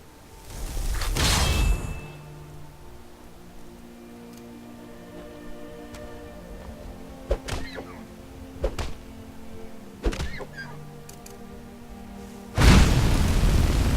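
A fire spell attack in Skyrim lands in two loud whooshing bursts, one near the start and one at the end, with soft ticks and small impacts in between.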